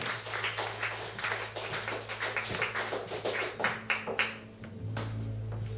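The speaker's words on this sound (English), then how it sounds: "So can you give him a big round of applause, Robin Cairns?" Scattered hand clapping from a comedy show audience in Aberdeen, fairly thin and uneven with a few louder claps, tapering off toward the end as a low hum takes over.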